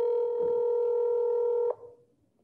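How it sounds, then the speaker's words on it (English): A telephone dialing for a call, a steady loud tone holding for nearly two seconds before cutting off abruptly, leaving a faint quiet tail. "So here goes the phone call."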